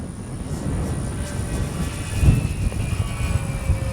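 A Dynam Grand Cruise radio-controlled plane drones steadily overhead with its propeller motor, flying in windy weather with wind noise underneath and a faint high whine running through it.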